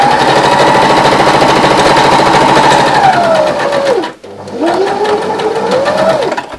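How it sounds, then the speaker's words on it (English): A sewing machine runs a quick straight stitch along a fabric hem for a cushion cover, loud and close, with a steady whirring drone that slows briefly near the middle before starting up again. "I'm sewing my hem down."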